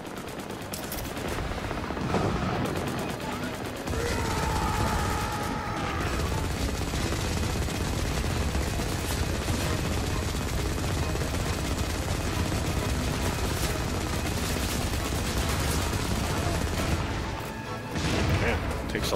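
Sustained, dense gunfire from the shooter game Firefall, rapid automatic bursts rattling continuously at steady loudness with brief pauses near the start and end, layered with in-game effects.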